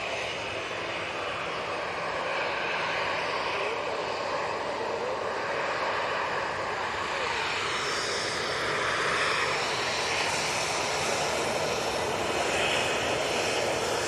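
A Ryanair airliner at Manchester Airport sends out a loud, continuous jet engine roar that holds steady and swells slightly as the aircraft passes close by, with no voices over it.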